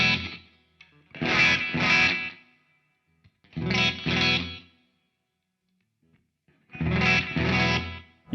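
A vintage 1970s Fender Telecaster electric guitar strums three short chord bursts separated by silence, each switching to a different pickup position, the tone bright and clear with a light effect on it.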